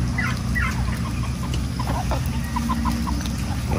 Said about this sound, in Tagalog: At ito na yung ating mga manok.